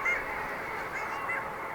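Long-tailed ducks call offshore in a dense, continuous chorus of nasal honking yelps, moderately distant, with no voices.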